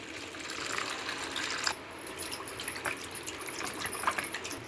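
Water is poured into a bowl of curd, a steady close gushing stream that runs on with a few small surges.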